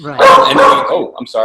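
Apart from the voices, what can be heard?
dog barking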